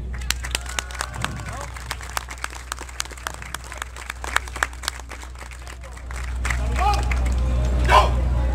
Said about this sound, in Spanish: Se vale aplaudir.